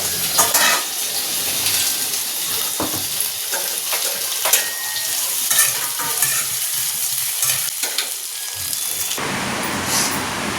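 Curry sizzling and frying in a pan on a home stove, a steady hiss with scattered stirring scrapes and clinks of a utensil against the pan.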